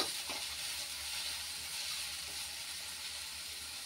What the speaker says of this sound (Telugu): ఆనియన్స్ మంచిగా ఫ్రై అయితే బాగుంటుంది.